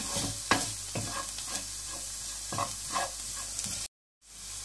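Chili masala for egg bhurji stirred and cooked in a pan: a constant close sizzle punctuated by repeated spoon scrapes and knocks in an uneven rhythm, briefly cutting out near the end.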